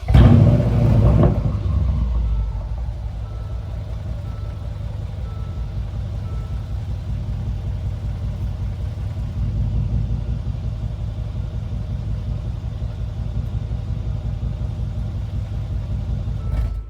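A Mercedes-AMG ML63 engine idles steadily with a low, even rumble, after a brief louder burst at the start.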